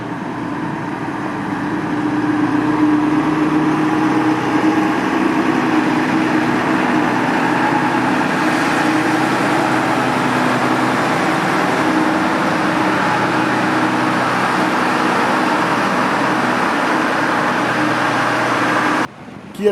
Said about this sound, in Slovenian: Darko Savič je pognal motor, speljal in odpeljal proti domu.